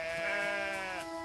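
A sheep from a flock of a hundred gives one sustained, quavering bleat, loud and close, lasting just over a second with no other sound around it.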